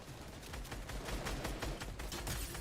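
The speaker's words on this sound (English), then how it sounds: "Watch out, the other teams are shooting us." Rapid gunfire from rival teams in an online shooter match, a dense run of distant-to-mid shots crackling steadily throughout with no talk over it.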